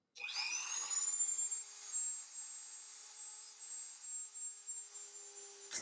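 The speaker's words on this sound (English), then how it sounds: "What we need to do now is to drill a hole in here and drill a hole in here." A small power drill whines steadily for several seconds while boring holes into a resin Halloween spider charm, a close, high continuous buzz with slight wavering as pressure changes.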